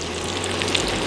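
Chicken lollipops coated in spiced batter deep frying in hot oil, a steady dense crackling sizzle close up with a low bubbling rumble underneath and no voices.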